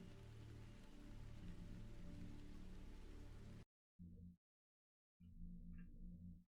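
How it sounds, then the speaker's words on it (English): Steady rain ambience from the video game NEO Scavenger, a dense hiss of falling rain that runs continuously, cuts out, then returns in two shorter bursts separated by silence. "rain sound effects."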